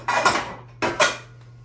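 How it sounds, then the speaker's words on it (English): A cooking pan is picked up in a home kitchen while a meatloaf is being made, giving two close metallic clanks and scrapes about three-quarters of a second apart, with no talking. "I'm going to go ahead and grab my pan while I'm at it"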